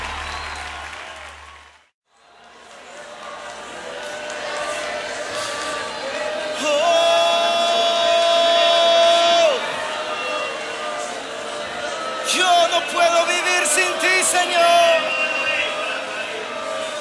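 A church congregation claps in sustained applause that swells and continues for many seconds, with music and raised voices mixed in.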